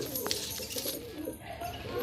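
Andhra pigeons in a large loft in Kolkata coo and flutter close by, soft repeated calls layered over dense rustling and high hiss.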